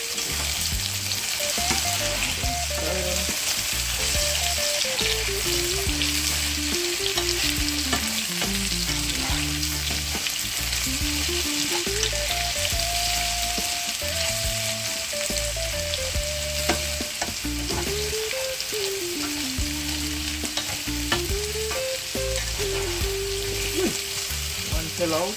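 Potatoes frying for corned-beef hash, a loud, constant close sizzle as they are stirred, with tonal melodic background music running underneath throughout.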